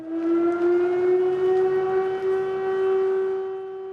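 A single sustained air raid siren wail holds one steady pitch, loud and continuous, fading slightly near the end, with no voices.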